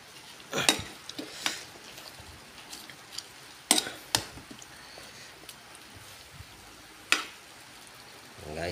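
A pot of dinengdeng with squash, malunggay and bitter melon leaves steaming on the stove, a soft steady hiss with a few sharp clinks of a utensil or lid, quiet and close.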